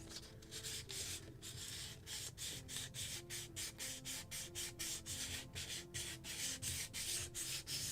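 Sandpaper rubs by hand along the hull of a wooden model ship, a Midwest kit Muscongus Bay lobster smack, in steady rhythmic back-and-forth strokes, close and continuous, with no talking.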